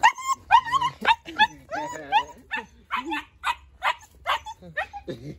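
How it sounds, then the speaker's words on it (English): A two-month-old German Shepherd puppy gives a string of short, close yips and whimpering whines in quick bursts, mixed with nearby talk. "It's a German Shepherd."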